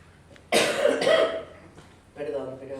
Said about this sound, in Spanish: Cada vez que creo que estoy curada, empiezo con una tos nueva.